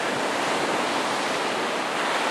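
Steady roar of ocean surf breaking on Pensacola Beach in the early morning, a continuous broadband wash of waves heard close and loud with some wind noise on the microphone, no talking.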